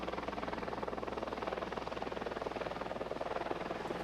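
A helicopter accelerates rearward as its rotor disc tilts back, its steady rhythmic blade chop and engine drone holding close and constant throughout.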